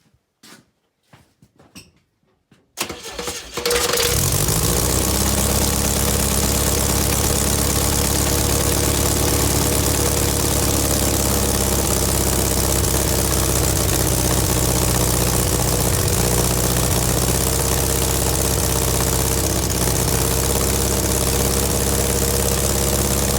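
A VW Beetle engine cranks briefly, catches, and settles into a steady, loud, rumbling idle with a mechanical clatter that continues without a break.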